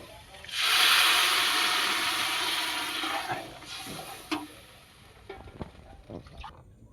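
Spices for Kali Puja bhog khichuri stirred in a hot pot break into a loud, bright hiss of frying that slowly fades, then a few knocks and scrapes of the spoon follow.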